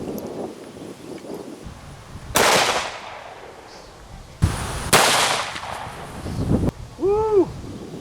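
Ruger Super Redhawk .44 Magnum revolver with a 9.5-inch barrel firing Underwood 240 grain hollow points at body armor, giving two loud, sharp reports a couple of seconds apart, each followed by a decaying ring, then a brief squeaky call at the end.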